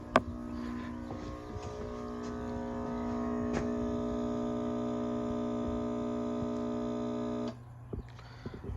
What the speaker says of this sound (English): Hear that pump?